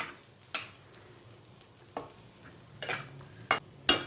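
A spoon stirs ragi sheera in a pan after hot milk is added, giving scattered soft scrapes and taps over a faint sizzle, with a few sharper clinks toward the end.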